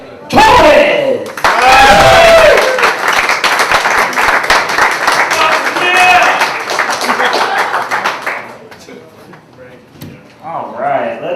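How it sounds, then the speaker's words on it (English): Loud stand-up comedy audience applause and cheering swell up, with whoops over the clapping, then fade away as the crowd settles. "give a big round of applause to Eric Torres."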